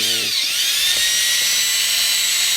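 A steady high-pitched whine of a power tool, like a grinder or wire wheel, cleaning corrosion on a used car, runs loud and close throughout.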